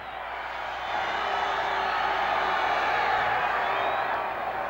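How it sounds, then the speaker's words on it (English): A large outdoor New Year's Eve crowd on State Street in Chicago's Loop cheers and whoops continuously, a dense wash of voices rising slightly and holding steady, heard from some distance. "the crowd, once again, down on State Street and Randolph, here in the heart of Chicago's Loop, is an enthusiastic one"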